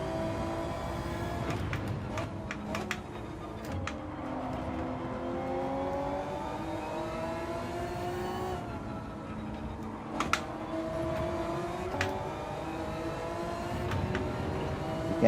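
The engine of the Castrol Honda NSX race car in a video game holds a steady high drone, its pitch swooping up and down with shifts and corners. A few sharp clicks break through, and no one talks over it.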